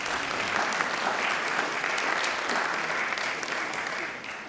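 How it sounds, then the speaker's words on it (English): An audience at a research symposium applauds a student speaker, a dense burst of clapping lasting several seconds before tapering off slightly at the end. "let's give a round of applause for Mechanicsburg"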